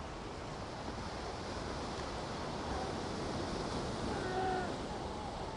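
Ocean surf as a set of waves rolls in toward shore, a steady broad wash of water with a gentle swell near the end, steady wind noise on the microphone.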